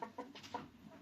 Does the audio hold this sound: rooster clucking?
yes